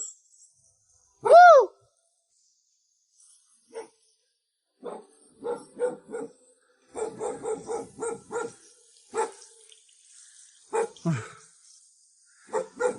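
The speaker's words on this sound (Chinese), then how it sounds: "我听到狗叫了" A dog at a remote mountain farmhouse barks repeatedly from a short distance, opening with a long howl-like yelp followed by irregular runs of sharp single and clustered barks.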